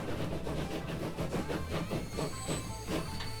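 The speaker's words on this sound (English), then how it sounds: "So here comes the train" Train rolling in on rails in the Transport Fever video game, a rhythmic clickety-clack of wheels over joints with rumbling motion and faint squeals, steady and fairly close.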